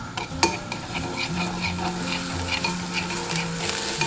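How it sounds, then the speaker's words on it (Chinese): Scallion, ginger and garlic stir-fry in a little oil in a clay pot, giving a continuous close sizzle with one sharp utensil clink near the start and light stirring scrapes. "砂锅里倒少许食用油，下入葱姜蒜炒香"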